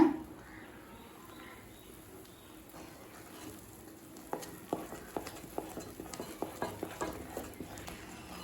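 Moong dal halwa stirred in a pan, with a series of soft, sharp scraping taps in the second half over a faint low background sizzle.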